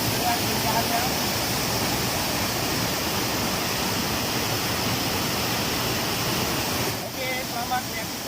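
Steady, loud roar of the Mengaya waterfall near Takengon, Central Aceh, filling the whole stretch, unbroken and close, with faint voices briefly near the end.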